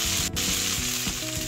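Urad dal and cumin crackle and sizzle in hot oil while being tempered for a chutney, producing a brief, dense, close-up frying hiss with small pops and no talking.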